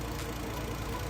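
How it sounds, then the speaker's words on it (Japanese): A Toyota Supra engine idles with a steady low rumble, continuous, with a faint rhythmic knocking texture and no voices. "エンジンはこの音なんですかね。"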